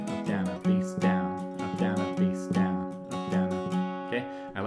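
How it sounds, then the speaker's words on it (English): A palm-muted acoustic guitar strummed in a country-style bass-note-and-strum pattern, muffled and rhythmic with steady down-up strokes, close and moderately quiet, with no voice. "I like to add that little bit of a palm mute just to give it a bit of a muffledness."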